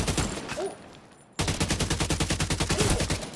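Rapid automatic rifle fire in The Division 2 video game, a loud close burst of fast, evenly spaced shots that pauses briefly and then resumes in a longer sustained volley.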